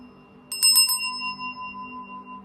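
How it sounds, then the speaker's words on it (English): A small bell is struck a few times in quick succession, then rings on with a clear tone that fades slowly, alone and close. "Let's ring the bell."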